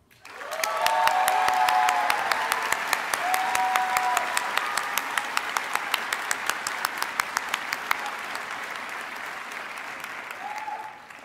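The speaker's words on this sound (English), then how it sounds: "I would like to ask everyone to please join me in giving a round of applause to our valedictorian, Lucia Liu." An audience at a business school graduation ceremony gives a long round of applause for the valedictorian, rising quickly, holding dense and fairly loud, then slowly thinning over about ten seconds.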